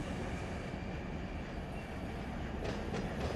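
A freight train rolling in the railroad simulator game Run 8, a steady dense rumble of wheels and cars with faint clicking toward the end, no voices.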